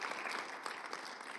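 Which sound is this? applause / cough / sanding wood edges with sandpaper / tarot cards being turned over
applause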